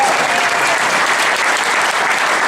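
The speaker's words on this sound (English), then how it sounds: "Now I want you to give my daughter a round of applause" Dense, steady applause from a large audience at a gala service auction fills the room, loud and continuous with no breaks for the full stretch.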